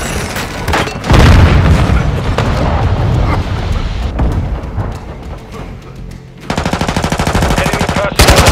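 Cruise missile strike explosions in Call of Duty, a loud rolling barrage of booms and blasts followed by rapid machine-gun fire near the end, with brief game voice callouts.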